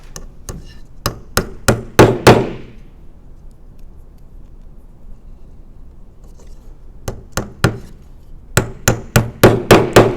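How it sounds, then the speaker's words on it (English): A tack hammer driving nails into a wooden beehive box in quick, sharp, loud taps, one burst of blows, a pause, then another rapid series of hits. "Need my trusty tack hammer."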